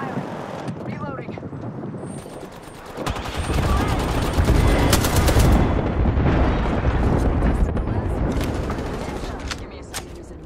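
Sustained automatic gunfire and an airstrike barrage from a battle in the Apex Legends video game, loud and dense, building up from about three seconds in, with characters' voice lines and callouts mixed in.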